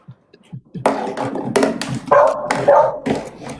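A dog barks and yelps repeatedly, close and fairly loud, in short bursts over several seconds, with faint human sounds and rustling underneath.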